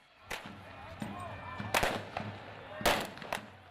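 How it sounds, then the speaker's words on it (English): Fireworks shot over palace walls during a street protest in Cairo, heard as a series of sharp, loud bangs and pops at irregular intervals against a rumbling crowd background, with some voices underneath. "A young man shoots fireworks over the walls of the palace, covered in anti-Muslim Brotherhood graffiti."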